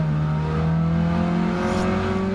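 A car engine in the video game Gran Turismo 7 holds a loud, steady high rev as it drives, with a rising whine and no speech.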